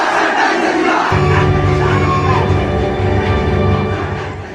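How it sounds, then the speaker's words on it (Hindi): A large crowd in a street procession in Bihar shouts a slogan together, a loud, dense roar of many voices that swells into a sustained unified chant and then fades slightly toward the end. "जैसे जैसे ये नारा लग रहा था भीड़ का उन्माद भी बढ़ता जा रहा था।"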